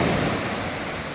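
Ocean surf rolling in at dusk near a small boat, a steady broadband wash of breaking waves filling the short stretch at moderate loudness with no voices.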